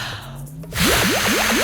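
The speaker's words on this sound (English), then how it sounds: "We're going to blow soap bubbles." Cartoon soap bubbles being blown come as a run of bright, bubbly whooshing pops with a rising, repeating wobble, loud and close after a short quiet lead-in.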